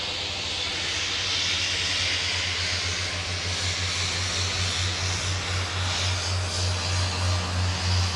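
A Metroliner cargo propeller plane taxis at night at Minneapolis–St. Paul airport in winter, its steady droning engines and low propeller throb loud and close, pulsing more strongly toward the end.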